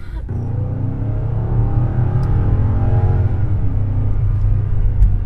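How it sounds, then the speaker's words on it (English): A BMW M car with an 8-speed gearbox, fitted with an intake and tune, rumbles and revs loudly up close, its engine note rising and holding steady with a whirring drone and a few sharp clicks, no voices over it. "sounds very similar to our M6. The downshifts are typical with this 8-speed."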